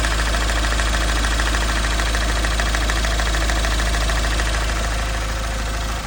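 Engine of a Mahindra Scorpio-N running loudly at idle with a persistent, rapid tak-tak knocking from the motor, steady and dense throughout under constant engine drone, recorded close up with no talking.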